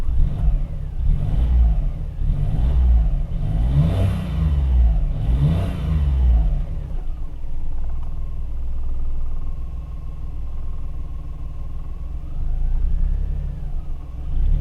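A home-built turbocharged Honda Acty engine runs on choke, a loud steady low rumble with rhythmic revving surges early on, then settling into an even, continuous idle drone up close.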